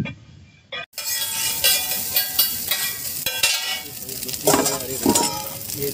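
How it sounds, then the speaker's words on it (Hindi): A spoon stirs green chillies into egg chicken bhurji in a hot pan, scraping and clinking against the metal over a steady sizzle, with a brief pause near the start. "ये हरी मिर्च, ये इनको मिक्स कर रहे हैं अच्छे से।"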